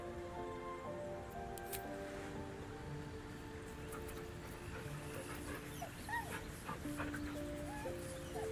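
A dog in the video game Baldur's Gate 3 whimpers and gives soft yips and barks over a steady ambient game soundtrack, faint and without speech.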